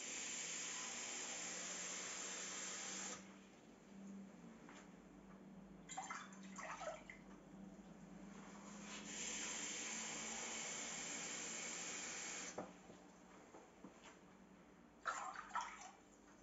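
Water rushes steadily into a pot for homemade dandelion flower syrup, about one and a half litres, with a close, hissing pour that pauses briefly and resumes a few times.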